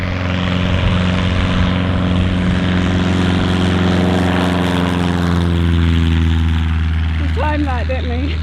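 Volantex Corsair F4U RC model warbird airplane with a brushless motor taking off, a steady electric propeller whine and hum heard nearby, with some voices and outdoor sounds in the background.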